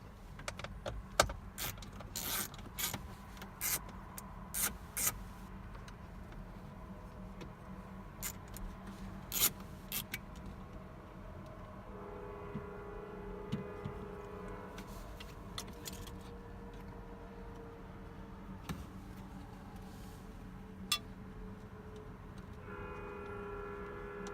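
Ratchet with a 7mm socket and extension backing four screws out of a car dashboard while a UConnect unit is swapped, heard as repeated quick clicking bursts and small rattles at close range over a low steady hum.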